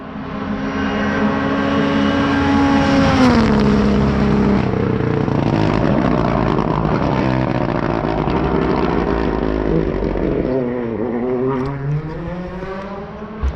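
A rally car from the women's crew at the Rallye Côte Fleurie in 2024 roars past close by, its engine loud and steady with a rising then falling pitch as it nears and sweeps away, never easing off.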